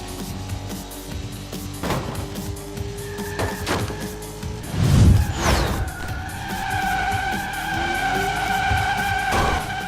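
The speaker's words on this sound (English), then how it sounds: "I'm wondering if the drift sound's like procedurally done" A car engine revs while tires squeal in a drawn-out drift skid in the racing game Split/Second, with a bump of noise midway and steady engine tone after, no voices.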